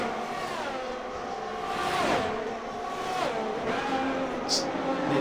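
Red Bull and Ferrari Formula 1 cars racing in a video game at a Spanish circuit, several engines whining and shifting pitch close together as they brake and accelerate through corners, with occasional tire scrub.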